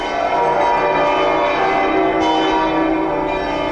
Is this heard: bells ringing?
yes